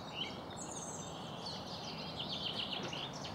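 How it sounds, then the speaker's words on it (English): Faint birdsong drifts in from a distance at a railway station near Great Chesterford, England, scattered chirps and twitters over a constant low background rumble. "Amazing amount of bird song at this station."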